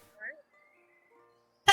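A single sharp human sneeze bursts out close and loud near the end, following a quiet stretch with faint vocal sounds.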